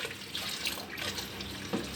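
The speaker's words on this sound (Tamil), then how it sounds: "இப்போ வந்து சுடு தண்ணி ஊற்றிக்கலாம்." Boiling hot water poured from a vessel into a dishwashing mixture, a soft continuous splashing pour with small gurgles, faint and close, with no talk.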